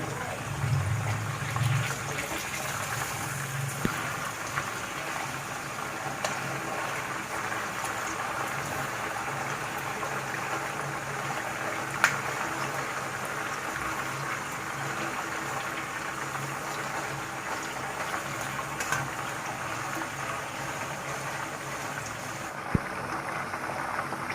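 Chicken pieces frying slowly in oil over low heat for a chilli chicken roast, giving a steady, soft bubbling hiss that runs unbroken throughout with no voices.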